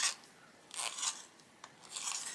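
Colouring pencil being sharpened for adult colouring, with soft, close rasping shaves in three short bursts and brief pauses between them.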